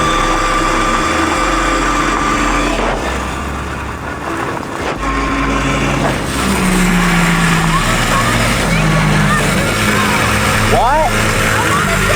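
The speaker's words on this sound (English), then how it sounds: "that's still 45 miles an hour on gravel on an electric dirt bike" An electric dirt bike runs at about 45 mph on gravel, giving a continuous loud roar of wind and crunching road rumble while people talk over it.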